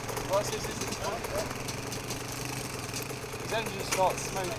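Off-road Toyota Hilux stuck in a quarry, its engine idling with a steady low rumble under intermittent nearby voices talking.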